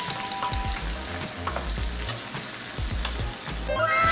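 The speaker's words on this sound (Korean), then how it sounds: "자, 그리고 기름 안 버립니다. 그대로 김치 투하." Kimchi fries in rendered pork belly fat, giving a loud, crackling sizzle with repeated bursts and clatter as the pan contents are stirred.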